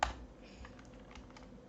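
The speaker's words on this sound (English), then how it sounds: "let's type in our code" Quiet, close typing on a computer keyboard, a soft opening clack followed by a light run of irregular key taps.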